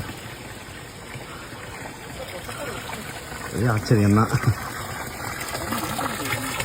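Spring water falls onto a Shiva lingam beneath a large rudraksha tree at an ashram. A steady stream of falling water rushes beneath a brief spoken exclamation.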